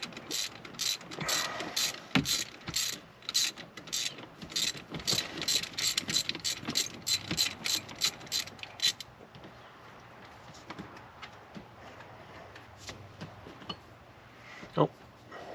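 Rapid ratchet clicks from a socket wrench removing 8mm and 13mm transmission bolts on a Cobra during a shifter install, a dense run of clicking bursts for about nine seconds, then quieter scattered clinks with faint talk.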